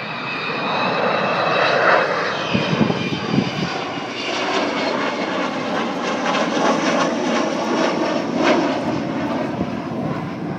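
Avro Vulcan XH558 bomber roaring past with its jet engines at an air display, a loud, broad, sustained rumble and whine that stays strong throughout, with no talk.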